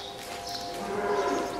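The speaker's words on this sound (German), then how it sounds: "Es sind aber viele Kühe." Cattle on a farm give a single drawn-out moo, fairly close and clear, with no talking.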